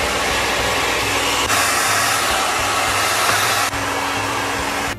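A hair dryer with a diffuser attachment runs at close range while drying hair, giving a steady loud whooshing roar with slight shifts in tone as it moves, and no talking.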